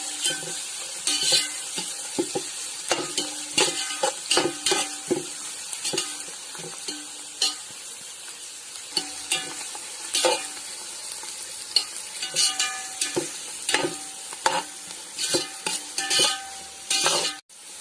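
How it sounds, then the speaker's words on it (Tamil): Onions sautéing in a pan for chicken biryani, with a steady sizzle broken by repeated stirring scrapes and clinks from a spoon, close and fairly loud throughout with no talking. "வெங்காயம் நல்லா வதங்கிடுச்சுமா. இது பிரியாணிக்கு நல்லா வெங்காயம் வதங்கி இருக்கணும்"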